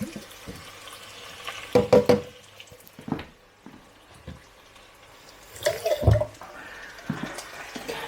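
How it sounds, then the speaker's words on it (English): Tap water splashing into and swirling around an emptied chopped-tomato can in a kitchen while cooking ox tongue, several short bursts of running and sloshing water separated by quieter pauses. "use a bit of water to cleanse your can so you could maximize the use of your chopped tomatoes"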